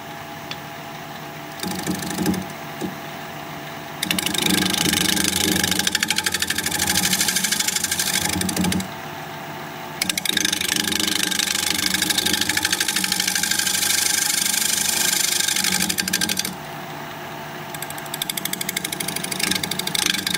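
Pear wood spins on a wood lathe under a scraper, giving a loud continuous machine whir with rough, intermittent cutting noise that stops and starts in several long bursts.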